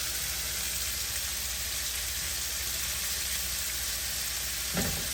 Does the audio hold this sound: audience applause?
no